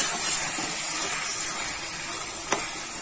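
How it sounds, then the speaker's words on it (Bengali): Bombay duck fish stirred in a hot pan over raised heat, a steady close sizzling hiss filling the clip with one brief scrape or clink near the end. "আঁচ বাড়িয়ে দিয়েছি, দিয়ে এবার আমি মাছগুলো নেড়ে নেব"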